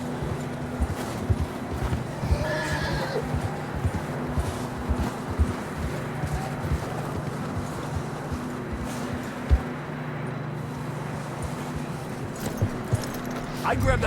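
Horses in Red Dead Redemption 2 plod along with a steady clip-clop of hooves under rustling outdoor ambience, moderately loud throughout, while people talk over it.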